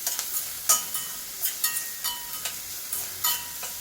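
Ginger and garlic frying in a pan, a continuous bright sizzle punctuated by rhythmic spatula strokes and scrapes, close and moderately loud, without any talking.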